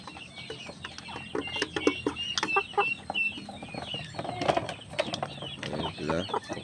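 Chickens cluck busily at feeding time, a dense mix of short overlapping clucks and calls from several birds nearby, with faint rustling underneath.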